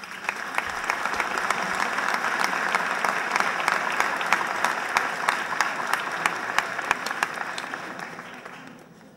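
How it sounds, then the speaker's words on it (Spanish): A crowd at a Christmas concert gives sustained applause, a dense clatter of many hands with a few sharper claps standing out, fading away at the very end. "Yo pido un aplauso para este sacerdote y los que le ayudaban."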